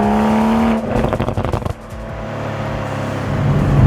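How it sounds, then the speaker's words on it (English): A Toyota GR Supra's engine runs loud and steady, then breaks into a rapid burst of sharp exhaust pops and crackles before settling back to a low rumble. "you get a lot of pops and crackles and stuff out the back on the exhaust there"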